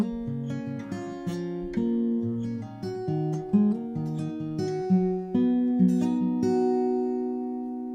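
Fingerpicked acoustic guitar plays a steady chord pattern ending on C with a G bass, plucked notes ringing one after another in an even rhythm, clear and close.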